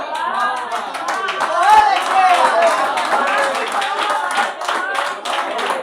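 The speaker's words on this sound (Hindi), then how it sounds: "जोरदार तालियां" An audience at an Urdu poetry recital claps loudly and continuously, while a voice speaks over the applause.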